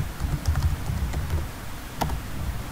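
Keys tapped on a computer keyboard, quiet and close, in a short irregular run of soft clicks over light background noise, with no voices.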